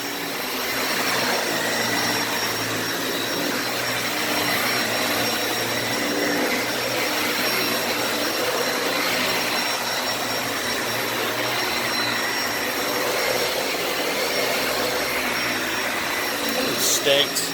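Dyson Ball Animal 2 vacuum cleaner running on fluffy carpet, a steady loud whine and roar that holds throughout with little change, ending in a couple of brief clunks.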